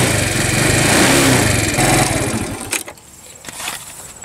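A 50cc scooter engine runs loud and close with a buzzing rattle, then cuts out abruptly, leaving quieter clicks and knocks.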